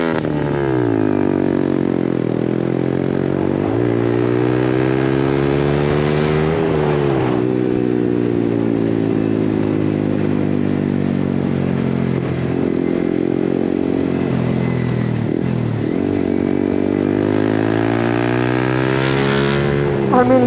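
Rider's-eye view of a 2024 Yamaha MT15 in Cyan Storm on the road, its small single-cylinder engine humming steadily and loudly with rising and falling revs through gear changes, continuous throughout.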